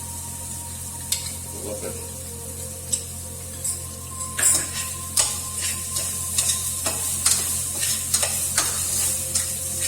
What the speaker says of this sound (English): We're going to fry the masalas.